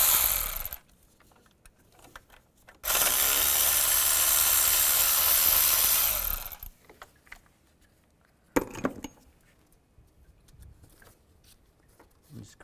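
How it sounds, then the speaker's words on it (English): A 10mm socket ratchet removes the top thermostat housing bolts on a 2005-2010 Chevrolet Cobalt, with a loud sustained burst of rapid ratcheting followed by quieter clicks and shorter bursts, close up between pauses. "I'm going to use a 10mm socket and take the 2 bolts out on top"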